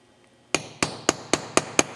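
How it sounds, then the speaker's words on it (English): Chasing hammer tapping a 6 mm stone setter while making earrings: six sharp metallic taps in an even, quick rhythm, close and clear against a quiet background. "with a chasing hammer, I'm just going to put this straight down on here"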